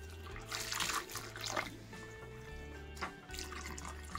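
Water running and splashing as it is poured into a sausage meat mixture of pork belly, a continuous close gush with a low hum underneath and no talk.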